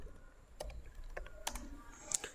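Someone types a password on a computer keyboard, a few quiet, close key taps spaced irregularly across a couple of seconds against a faint background.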